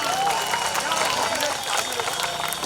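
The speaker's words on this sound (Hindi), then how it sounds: "जोरदार ताली हो जाएगी" A crowd at a public rally claps in a dense, continuous burst of applause. It stays loud and steady throughout, with voices mixed in.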